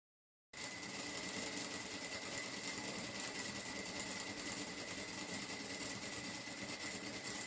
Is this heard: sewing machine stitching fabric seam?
yes